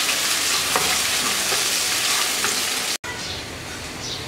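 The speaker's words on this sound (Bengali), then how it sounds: "পেঁয়াজটা হালকা ভেজে নেব।" Chopped onions lightly frying in oil in a kadai, a steady close sizzle with brief stirring scrapes throughout, a momentary gap near the end before the frying resumes.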